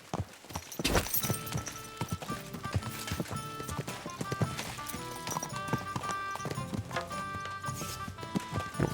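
Horse hooves clip-clopping while riding in the video game Kingdom Come: Deliverance II, a steady, close rhythmic trot of sharp hoof strikes over a bed of game music.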